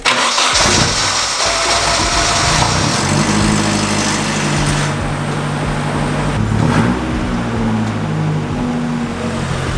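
A Nissan S13 240SX engine cranks with a whirring starter, catches, and settles into a loud, steady running rumble close by.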